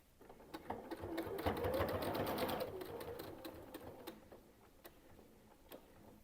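Sewing machine stitching binding onto a quilt: a steady run of quick mechanical needle clatter for several seconds, rising in the middle and then easing off, heard close with no talking.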